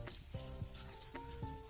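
Frozen donuts frying in hot oil in a wok give a steady close sizzle with soft bubbling crackle throughout.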